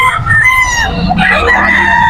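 Chickens and roosters at a crowded early-morning poultry market in Bocaue, Bulacan, crowing and clucking loudly and close by in overlapping calls, with people talking underneath.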